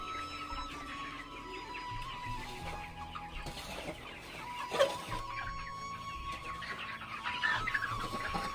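Chickens on a poultry farm cluck and murmur continuously, a busy flock heard at moderate distance with occasional louder calls standing out over the steady chatter.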